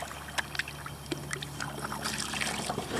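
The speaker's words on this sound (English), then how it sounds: "So we're just paddling around a little more here" Kayak paddle strokes dipping into a calm creek in South Carolina, with soft splashes and water trickling off the blade at an unhurried, irregular rhythm, close and fairly quiet over a low steady background hum.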